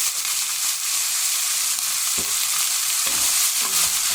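Shallots and rabbit pieces frying in butter in a pan, a steady loud sizzle with a few brief stirring scrapes and knocks, no talking.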